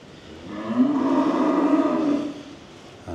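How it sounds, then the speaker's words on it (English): A cow bawls in one long, loud, close call, rising and fading over a couple of seconds, as cattle are let out to pasture after being housed over winter. "These lads are all bawling here now since I let out them cows."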